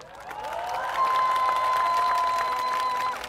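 Crowd applause at a Korean political rally while bereaved families stand on stage, a dense, steady clapping wash that holds for the full few seconds, with a thin sustained tone ringing through it.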